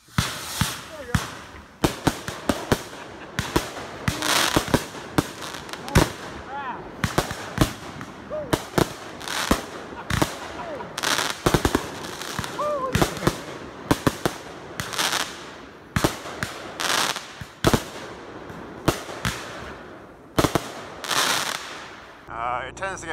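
Fireworks and firecrackers going off in a backyard on the 4th of July: dense, irregular bursts of sharp cracks and booms, loud and close, with rapid crackling strings between bigger blasts.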